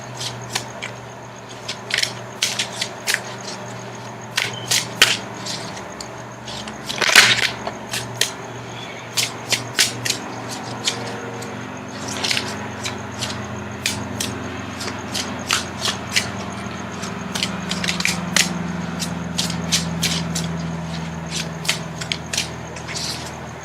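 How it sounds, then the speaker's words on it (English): Tarot cards being shuffled by hand at close range, a long run of crisp riffling and flicking bursts in irregular rhythm over a quiet room background, with no talking. "Now I'm going to shuffle for the outcome card."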